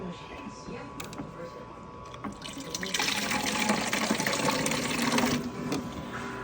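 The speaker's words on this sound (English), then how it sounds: "So let me finish dispensing this water and I'll be right back." Water streams steadily into a cup from a dispenser, the pour growing louder and fuller halfway through, with faint background noise.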